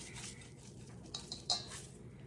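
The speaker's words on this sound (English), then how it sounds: "We just want to stir that." Seasoning being stirred into food in a pan: soft scraping and clinking of a utensil against cookware, quiet and close, with a few brighter taps near the middle.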